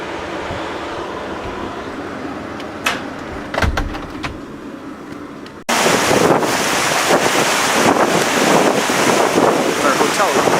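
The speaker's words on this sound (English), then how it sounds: "The water's really rushing. You can hear it." River water in Ireland rushes out to the bay in a dense, continuous roar, buffeted by wind on the microphone, growing louder and closer partway through.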